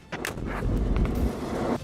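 Army mortar fire on a firing range during a joint military exercise: a heavy, sustained low rumbling blast that holds loud for about a second and a half before cutting off, with no voices.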